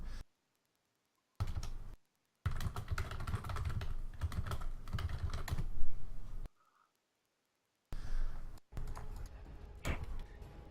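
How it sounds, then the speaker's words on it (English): Rapid keyboard typing into the chat of a paused StarCraft tournament game, with dense clattering keystroke runs separated by brief silent breaks. "I'm typing in the chat, since the pause is there."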